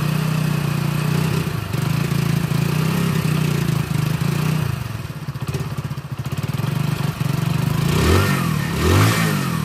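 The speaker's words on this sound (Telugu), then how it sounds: "ఇంజన్ సౌండ్ అయితే ఎట్లా వస్తుందో చూడండి ఒకసారి అయితే." A Hero Splendor Pro motorcycle engine runs at a steady idle with a low, even thrum, dipping briefly before rising again in a couple of quick revs near the end.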